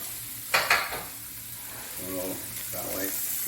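Onions, peppers and ham sizzle in a pan for a Denver omelet while a spatula scrapes and stirs them, with a sharp clack near the start and a faint voice under the frying.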